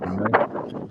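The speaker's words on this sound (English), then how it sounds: "It's horribly windy here." Strong outdoor wind gusts buffet the microphone in a suburban setting, a brief, loud rumbling rush with no clear speech.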